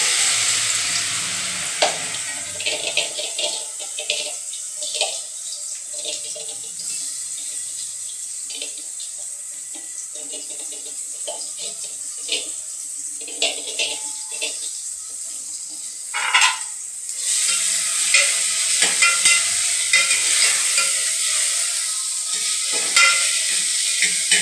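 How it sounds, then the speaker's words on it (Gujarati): Ridge gourd goes into hot oil tempered with mustard seeds in a home Gujarati kitchen. A soft continuous sizzle carries on with a few scraping stirs, and there is no talk. "શાક પણ આપણે વઘારી નાખ્યું છે।"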